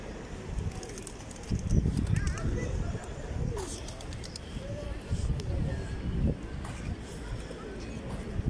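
Pigeons coo in a public square in Meknes near Bab Mansour, with soft low calls recurring through busy outdoor ambience while people talk nearby.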